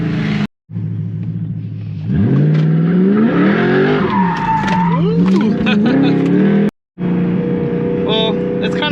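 A BMW E92 M3 drifts with its engine revving and rising in pitch while tires squeal and skid loudly, a sustained close roar with brief cuts in the sound.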